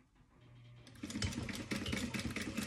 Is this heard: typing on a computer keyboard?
no